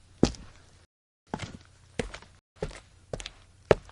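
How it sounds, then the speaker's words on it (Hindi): Footsteps land one at a time as distinct thumps, about six in all, with a short pause after the first step and then a steady walking rhythm, fairly close and with nothing else heard. "जैसे पैरों के चलने की आवाज"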